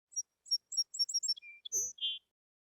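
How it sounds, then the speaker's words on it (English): A little bird tweeting loudly as a story sound effect: bright, rapid chirps in quick bursts, followed by a few longer whistled calls, close and clear against silence. "Finally, Little Bird flew over to Andrew, landed on his shoulder, and tweeted as loud as she could to get his attention."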